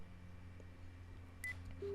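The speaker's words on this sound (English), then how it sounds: "He takes out his phone and calls up the newly stored number." A phone dialing tone in the Song of Saya visual novel game, heard as a faint hum with a couple of brief, thin electronic beeps near the end.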